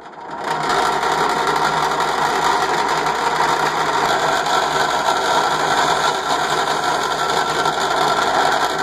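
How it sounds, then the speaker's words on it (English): A power drill runs continuously at a steady high whine, close and loud, after a brief quiet start. "And start your drill."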